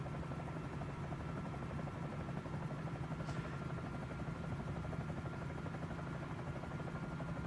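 A Huey helicopter in Microsoft Flight Simulator 2024 drones on steadily with a continuous rotor and turbine hum, loud and unbroken throughout, with no voices.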